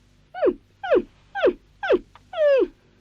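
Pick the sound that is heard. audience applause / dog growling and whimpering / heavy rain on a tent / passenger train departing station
dog growling and whimpering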